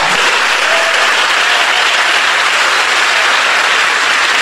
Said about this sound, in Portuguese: Mas eu quero que você aplauda forte. Aplauda bem forte.